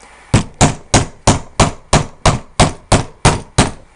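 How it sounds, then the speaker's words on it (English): A pin being tapped into the knuckle of an e-NABLE Talon Hand 2.0 prosthetic: eleven sharp, evenly spaced hammer taps, close and loud, with no talk. "So we're just going to keep going and tap it until it's all the way in."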